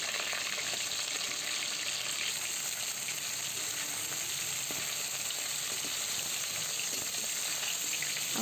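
Fish fries in a pan for a mustard and dried-mango sour dish, a continuous close sizzle and crackle that holds steady for the whole stretch with no voices.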